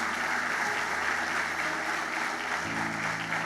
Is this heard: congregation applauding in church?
yes